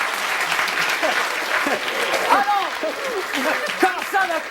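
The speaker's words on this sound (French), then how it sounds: "On les applaudit." Studio audience applauding steadily on a French TV game show, a dense continuous clapping wash with cheers and voices mixed through it, holding at an even level from start to finish.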